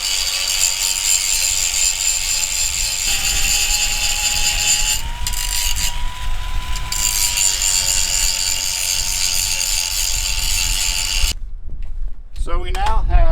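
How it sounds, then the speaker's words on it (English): A grinder smooths weld bumps flush on a metal plate while setting up a MacDon FD2 Series header, giving a loud steady high whine with a slight pitch dip mid-way. It cuts off near the end, followed by brief rattling. "So I'm going to go ahead and grind that down now in order to make it so we got a nice smooth surface"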